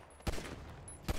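Two separate gunshot bursts from GTA V, short and sharp, spaced nearly a second apart over a low background hum, with no talking.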